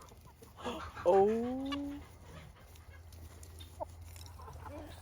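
Backyard chickens and roosters make soft clucks, and one loud, drawn-out rooster call rises and fades near the mic. A person murmurs once against low background noise.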